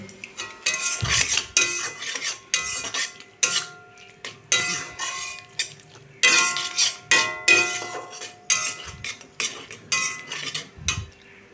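Spices and a splash of water for a bottle gourd curry are stirred in a cooking pan. A spoon scrapes and clanks against the metal in quick, repeated strokes, loud and close, with short pauses between bursts.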